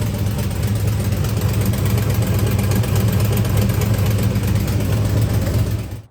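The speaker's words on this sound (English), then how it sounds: "the front is where the exhaust leak is at" A 450hp cammed truck engine idling with a left-side exhaust leak at a worn header gasket, a close, loud, steady lumpy rumble with a continuous rapid pulsing, until it cuts off abruptly at the end.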